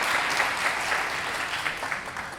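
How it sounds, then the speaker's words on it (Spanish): Dense, loud audience applause for three presenters at a Connecturday 2018 talk on the history of video games in Costa Rica: a continuous, even roar of many hands clapping together with no pauses. "Damos un fuerte aplauso a Marcelo, a Francisco y a Leo"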